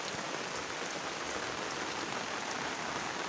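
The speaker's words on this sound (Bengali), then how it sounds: "মানে প্রচণ্ড বৃষ্টি পড়ছে" Heavy rain pours steadily onto a rooftop terrace, a dense, even hiss of drops with no letup, loud and close, with no voices.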